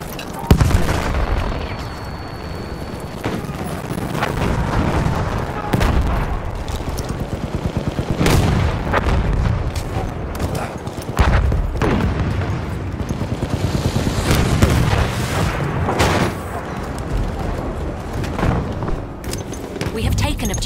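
Explosions and rapid gunfire from a Battlefield 1 conquest battle, dense and continuous, with repeated loud blasts layered over constant shooting, distant and near, alongside game voice announcements.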